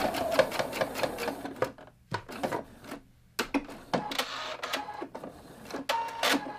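A sewing machine stitches quilt binding in quick rattling bursts, separated by short pauses and small handling clicks, close and clear, with no talking.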